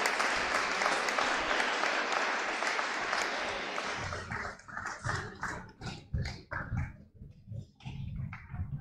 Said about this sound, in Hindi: जोर से ताली बजाइए बेटा